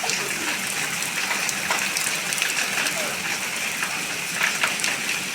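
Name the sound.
rain falling in Jhansi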